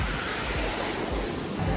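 Surf washes steadily onto a popular beach in Bali, a continuous broad roar of breaking waves with no distinct individual crashes, close and fairly loud throughout.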